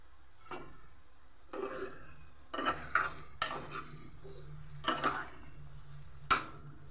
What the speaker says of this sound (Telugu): చూడండి ఎంత బాగా ఫ్రై అవుతున్నాయో